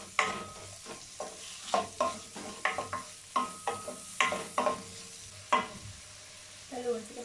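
Sliced onions with salt fry in a pan as a spatula stirs them, giving about a dozen sharp scraping strokes in an uneven rhythm over a steady close sizzle, while biryani is being prepared.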